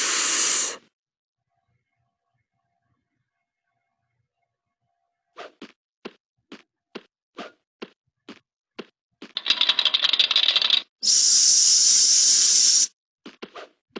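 Children voicing a snake's hiss as the letter S: a long hiss first, then a quick run of short sharp hissing bursts, followed by two longer loud hisses. Clearly human voices imitating the sound.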